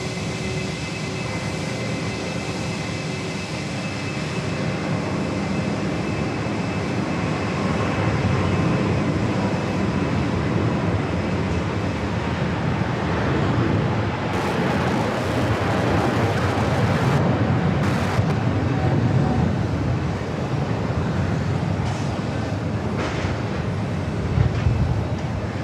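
A Cathay airliner takes off from JFK runway 4 left, a continuous loud jet roar that swells and stays heavy across the whole stretch, broad and rumbling with a rising whine on top.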